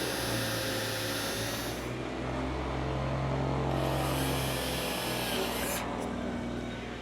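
A hole drilled at slow speed during a Sling TSi aircraft build, a steady whirring drill with its pitch and load shifting and briefly easing off twice. It stays loud and close throughout.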